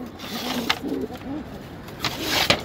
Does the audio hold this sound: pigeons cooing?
yes